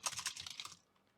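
Quick burst of keystrokes on a computer keyboard entering a password, a dozen or so soft, close clicks over under a second, then fading to quiet.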